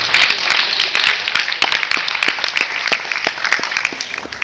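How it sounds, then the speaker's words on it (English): An audience at a financial planning seminar for women entrepreneurs claps, close and fairly loud, with a few distinct individual claps standing out from the dense applause. "Is this clap is for to begin or to end by this time?"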